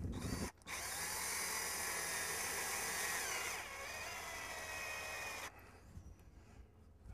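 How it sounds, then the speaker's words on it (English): A power drill driving screws into wood for a hoop pen whirs loudly at close range in long steady bursts, its high motor whine briefly cutting out before stopping near the end. "Get your drill."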